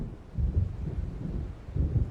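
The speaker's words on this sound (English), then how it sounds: "It seems there's a storm coming." Deep thunder from an approaching storm in Alan Wake Remastered rolls in low, heavy swells, with two louder rumbles set apart by a quieter stretch and no voices.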